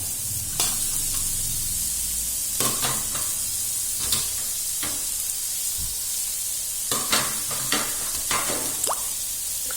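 Shredded cabbage stir-fries in a pan for noodles, a steady loud sizzle broken by repeated scraping stirs and soft clatters, with no talk.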